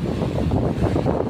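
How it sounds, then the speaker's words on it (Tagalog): Strong wind buffets the microphone in a steady, loud roar, with no voices. "Lakas ng hangin."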